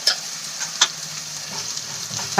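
Spices with turmeric and red chilli powder sauté in a pan, a close, steady sizzle broken by a few sharp scrapes and clinks of stirring.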